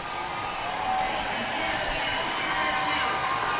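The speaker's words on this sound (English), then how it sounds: "we all listen to that crowd" Pride Diversity Parade crowd on 7th Avenue in Tampa, a steady broadband wash of cheering and crowd noise that stays loud and even throughout, with voices mixed into the roar.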